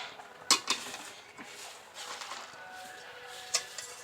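A cooking pot of boiled elephant apple (chalta) is lifted off the stove and drained, giving a few sharp metallic clanks and clinks over a low kitchen background, with no talking.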